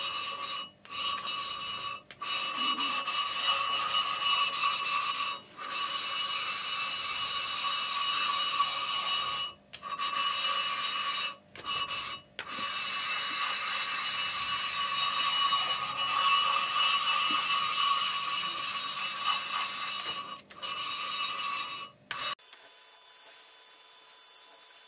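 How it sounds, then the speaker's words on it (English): Rough lapping of a metal surface with abrasive powder and kerosene makes a sustained gritty rasping scrub, steady and close, broken by a few brief pauses before stopping near the end. "add a bit of kerosene, spread the abrasive powder on the surface, and conduct the initial rough lapping"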